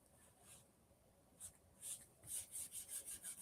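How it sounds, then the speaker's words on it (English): A marker eraser rubs across a whiteboard in quiet, close, rhythmic strokes that start faint and grow into a steady series of soft swishes toward the end. "So if you see me erasing for a while,"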